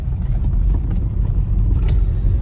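A car engine rumbles close by as the vehicle drives up, a loud, steady low growl with slight surges in power throughout, and no talking over it.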